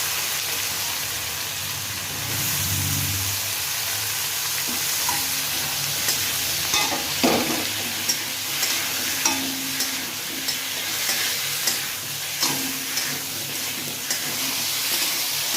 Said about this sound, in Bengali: এরপরে দিয়ে দেবো কপি যাতে কপিটাও আলুর সাথে ভালো করে ভাজা হয়ে যায়